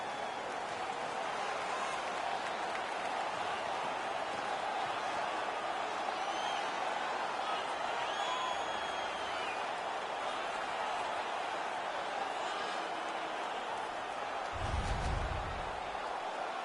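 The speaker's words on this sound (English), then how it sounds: "The home crowd is ecstatic. They're making all kinds of noise." Home crowd in NHL 17 cheering after a fight, a steady, broad roar of arena noise running throughout, with a brief low thump near the end.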